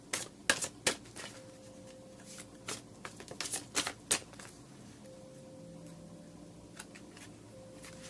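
Tarot cards shuffled and drawn during a reading: a burst of crisp, rapid riffling and slapping card sounds in the first half, then quieter, sparse taps as cards are picked, with a faint tonal hum underneath.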